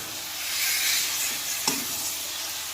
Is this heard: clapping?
no